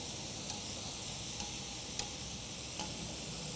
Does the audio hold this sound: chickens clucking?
no